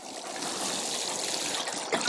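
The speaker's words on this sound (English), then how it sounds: "If I was to use a normal watering can with a normal rose on the end and water them" A watering can fitted with a fine rose showers a seed cell tray in a steady, close, continuous patter of water with no break.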